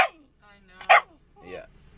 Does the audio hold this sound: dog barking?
yes